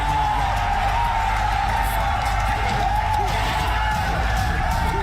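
Tournament crowd at the 2018 Tekken World Tour Finals keeps up a dense, loud roar of cheering and whoops throughout, with a steady hum behind it.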